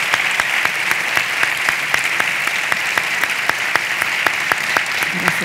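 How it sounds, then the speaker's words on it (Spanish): An audience at a congress tribute gives sustained, dense applause, a loud even wash of clapping with a few sharper individual claps standing out, nearly free of speech. "Un aplauso."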